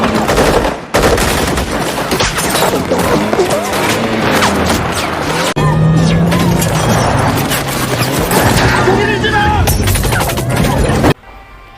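Guards fire on a convoy in a conflict zone: loud, dense, continuous gunfire with rapid overlapping shots and bursts, near and harsh throughout, cutting off abruptly at the end.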